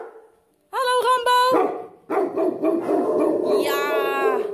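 At an animal shelter, a dog barks and yips loudly close by in a quick cluster of sharp barks. A longer, howling bark follows, and a voice talks briefly at the start.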